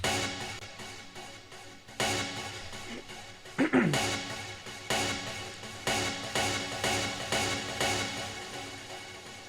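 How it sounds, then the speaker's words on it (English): Chopped synth stabs repeat in a short rhythmic pattern, punchy bursts with quick decays, one with a pitch-bending swoop, playing alone. "we chopped them up and created a little rhythm"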